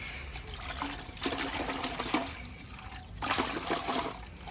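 Petrol poured into the fuel tank of a Mahindra Scorpio N, a gurgling liquid stream that swells and fades in a few bursts, close and fairly quiet.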